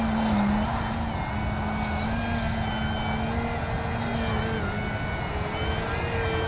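An XR-52 model aircraft hovers with its electric motor holding a steady, continuous whine under a faint background hiss, nearby and fairly even in loudness throughout.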